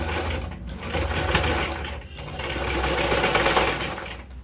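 A sewing machine stitches cloth for a jute bag made from old fabric, a close, continuous rapid mechanical whir with a couple of short pauses and changes in speed.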